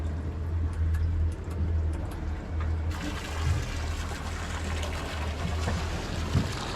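A boat's bilge pump switches on partway through, and a low hum gives way to a louder rushing, trickling wash of water that runs on steadily to the end.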